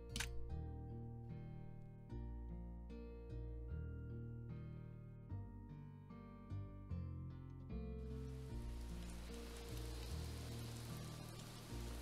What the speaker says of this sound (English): And you can hear the ambiance of the rain.